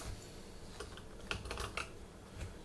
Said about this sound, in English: I'm going to type services.